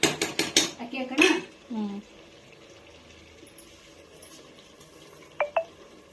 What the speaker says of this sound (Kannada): ಅಕ್ಕಿ ಹಾಕೋಣ.